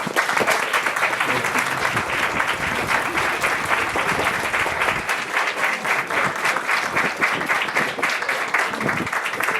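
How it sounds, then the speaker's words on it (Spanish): A large audience applauds loudly and steadily at an award ceremony held by the Universidad Mexiquense del Bicentenario, Tepotzotlán campus, with dense clapping sustained for the whole stretch. "Vamos a otorgar un aplauso fuerte para..."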